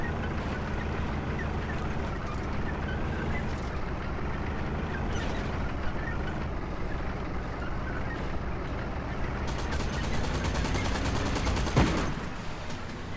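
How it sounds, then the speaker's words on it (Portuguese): Heavy machine-gun fire from an MG13 in the online shooter Heroes & Generals, a dense continuous rattle of gunfire under loud battlefield rumble, with a sharper burst near the end. "Caramba, essa arma é forte, hein? A MG13, olha isso."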